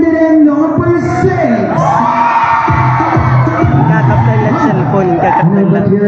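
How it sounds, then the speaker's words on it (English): A pageant audience cheers and shouts loudly for a contestant, with children's shrieks and whoops rising from a dense, continuous crowd roar over several seconds. "can I hear your cheers for candidate number 6?"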